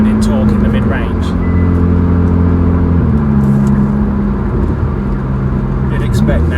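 A Hyundai i30N FL with a DCT gearbox, a full RPM Performance exhaust and a remap holds a steady, loud exhaust drone that shifts in pitch partway through, with faint background noise.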